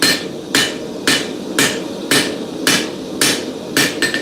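A B&D Forge hammer's cross peen hits a chef's knife blade on the anvil. Eight evenly spaced, ringing strikes land about half a second apart, loud and close, with no talking.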